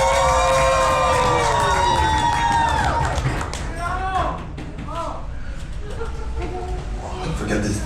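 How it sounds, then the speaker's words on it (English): A crowd at an Asakusa sumo event cheers and shouts loudly, with voices rising and falling in overlapping calls, continuing under an announcer speaking. "Thank you for cheering them on."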